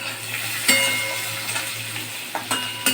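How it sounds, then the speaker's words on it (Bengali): Ridge gourd and green chillies frying in a pan: a steady close sizzle with occasional scrapes and clinks of stirring throughout. "ঝিঙা আর কাঁচা লঙ্কাগুলো আমি একটু লাল করে, একটুখানি হালকা লাল করে ভাজবো।"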